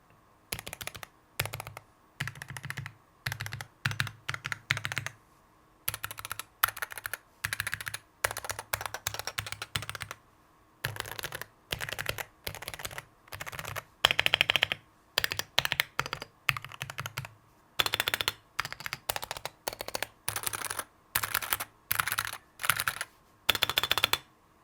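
Typing on a Wooting 80HE keyboard, quick bursts of crisp key clicks separated by brief pauses, close and alone in a quiet room.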